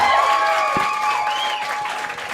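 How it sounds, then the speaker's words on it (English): Comedy show audience clapping hands to ask for one more joke, a short burst of applause with a voice speaking and tonal sounds over it. "If you guys want to see one more joke, clap your hands."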